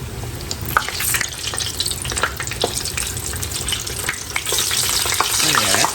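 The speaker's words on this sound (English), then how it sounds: "when you see them getting brown around the edges, that's when you're gonna want to flip them" Beef empanadas sizzle and crackle steadily in hot oil in a pan, with scattered pops and spatters throughout, close and continuous, no voices.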